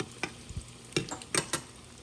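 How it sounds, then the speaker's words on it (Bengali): Eggplant fritters (beguni) fry in a home kitchen pan with a soft sizzle, punctuated by a handful of sharp, close clinks and scrapes as the pieces are stirred and turned. "আমি বেগুনিগুলা আগে ভাজি"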